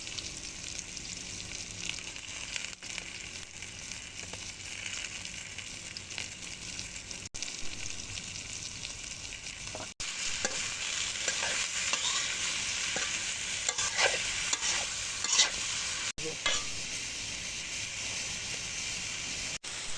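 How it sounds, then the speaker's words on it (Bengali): Raw potatoes and bitter gourd go into a wok and fry, starting with a soft simmering hiss that jumps to a louder, busier sizzle partway through and stays close and steady, with scattered crackles. "কাঁচা অবস্থায় আমি আলু এবং করলা দিয়ে দিচ্ছি।"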